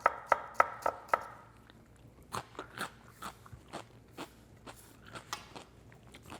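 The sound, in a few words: chopping celery and shallot for tuna salad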